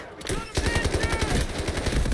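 Automatic gunfire in the shooter video game Delta Force: a loud, close, sustained burst of rapid, evenly spaced shots lasting about two seconds.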